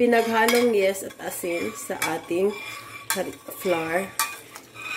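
A yeast and salt mixture is stirred into flour in a bowl for zeppole dough, giving repeated scraping and clinking of a utensil against the bowl with a voice talking over it.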